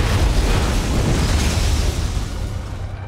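An Eradicator blows up in StarCraft II, a loud, dense rolling explosion sustained for about three seconds before easing slightly.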